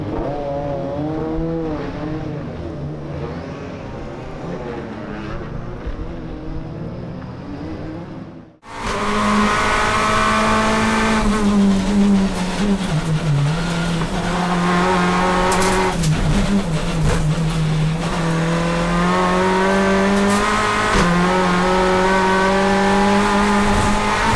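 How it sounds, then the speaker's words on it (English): Onboard a BTCC touring race car on a 2019 free-practice lap at Croft: a muffled engine drone gives way to a loud, close engine roar with rising and falling revs, gear shifts and occasional tire squeal. "Let's ride on board with Crees on a lap of FP2."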